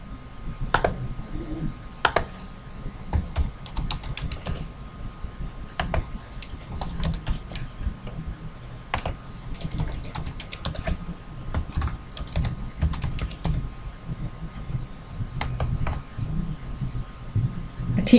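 Rapid clicking of computer keys comes in quick bursts and runs, close and steady throughout, with a faint background hum beneath the typing.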